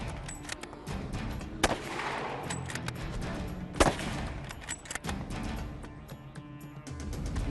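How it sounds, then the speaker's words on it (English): Rifle shots ring out during a black bear hunt on an island, several sharp loud cracks spread across the clip, with rustling and movement between them. "I'm hoping that was my first shot, and obviously I got 2 more into him."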